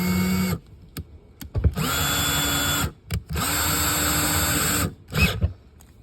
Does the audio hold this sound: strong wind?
no